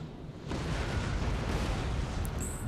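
Napoleonic-era artillery guns firing in the strategy game Napoleon: Total War, a loud sustained roar of cannon fire that bursts in after a quiet moment and rumbles on with no gaps.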